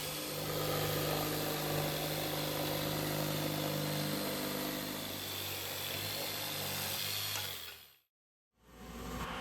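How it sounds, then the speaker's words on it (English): A big router with a large bit on a router table cuts walnut, giving a loud, steady high whine with a low hum under it. The noise cuts off abruptly near the end, then starts up again. "Guess what? More routing."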